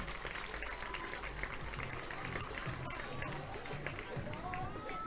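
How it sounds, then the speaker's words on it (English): A college softball crowd at Levine Fricke Field, Florida State vs California, claps and applauds in a dense, continuous patter, with a commentator talking over it. "getting some claps and a round of applause here at Levine Fricke Field"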